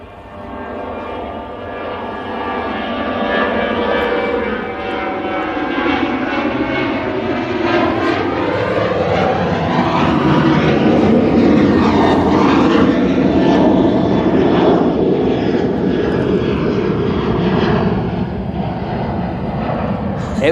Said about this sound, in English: we'll get this Etihad going out, just because it is the green liner